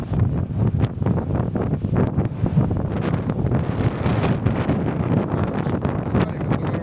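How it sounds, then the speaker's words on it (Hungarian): Strong wind in Croatia buffets a microphone with a constant low rumble and rough gusty bursts, loud and close throughout. "Nagyon durván feltámadt a szél."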